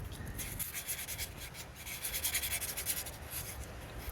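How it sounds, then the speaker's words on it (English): Sandpaper is rubbed against a car distributor rotor on a Nissan Skyline R31 to remove white oxidation, making a soft, continuous close scratching rasp with a steady back-and-forth rhythm and no voices. "So you also want to sand up your rotor,"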